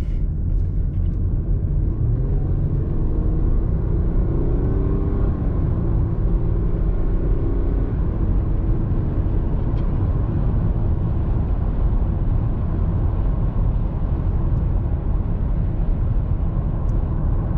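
A 2007 Toyota Camry SE V6 accelerates on a night drive, its engine a steady, loud low rumble and drone heard from inside the cabin, with no talking.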